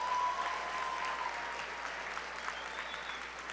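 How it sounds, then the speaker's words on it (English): A graduation ceremony audience gives a round of applause, a dense, moderately loud wash of clapping that starts strong and slowly tapers off. "Can we get a round of applause for that?"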